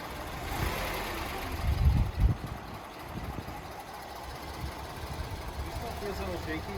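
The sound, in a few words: Subaru Forester XT engine running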